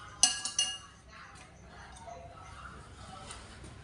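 A metal spoon clinks against dishes a few times in quick succession, bright and close, during home cooking of stir-fried pork with mushrooms, then only quiet kitchen background remains.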